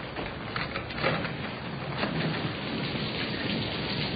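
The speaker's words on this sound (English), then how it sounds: "I can't hear a thing with this storm going on." Steady rain pours through a radio drama storm effect, with thunder rumbling low beneath the hiss at an even, continuous level and no voices.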